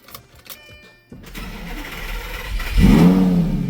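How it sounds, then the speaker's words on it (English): A Lamborghini engine cranks and fires after a few quiet clicks, then settles into a loud, steady idle with a rising rumble, close by and with no talking. "We can start the car."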